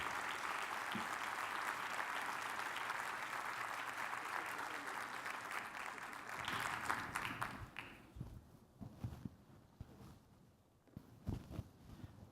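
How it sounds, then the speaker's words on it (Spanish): A lecture audience applauds a speaker in a steady, dense wash of clapping that runs for several seconds before tapering into scattered claps and room noise. "Recibámoslo con un fuerte aplauso."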